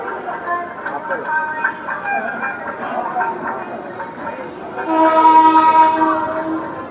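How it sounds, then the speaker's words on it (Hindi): The Farakka Express stands at platform 1 of an Indian railway station in the ECR zone, Danapur division, with rumbling train and station noise, a horn-like tonal blast swelling near the end, and someone talking throughout. "यहाँ पे अपनी ट्रेन का मात्र 2 मिनट का हॉल्ट है और फरक्का एक्सप्रेस से आई है प्लेटफॉर्म नंबर 1 पे"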